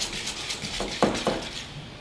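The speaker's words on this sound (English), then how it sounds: "so you just mix it until you get the right consistency" Whisk or spoon mixing beer batter for fish in a bowl, a few soft clinks and scrapes near the end over a quiet, hissy background, close but faint.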